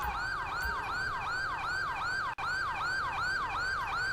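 An ambulance siren in the LSPDFR police game, wailing in a fast, regular rising-and-falling cycle, loud and steady with a brief dropout midway.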